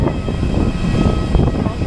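Aircraft engine noise at an international airport gate in Thailand, a steady low rumble and whine continuing throughout as passengers leave the plane.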